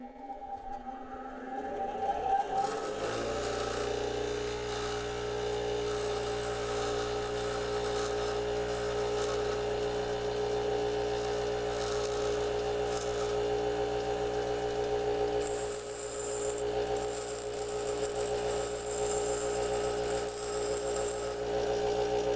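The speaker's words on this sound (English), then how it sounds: "Let's take them over to the grinder, flatten them down." A bench grinder flattens down bolts for an Impala build, with a tonal spin-up whine leading into a loud, sustained grinding hum and intermittent bright metal-on-wheel hiss, close and without speech.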